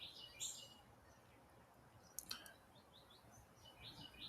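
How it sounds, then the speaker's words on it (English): Birds sing faintly outdoors, with scattered short high chirps and tweets at a distance over a low, steady ambient hiss. "Oh, the birds, so beautiful."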